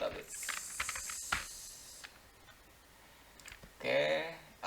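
Fingers tap quickly on a computer keyboard up close in a brief burst of clicking keys, then a pause before a voice speaks near the end.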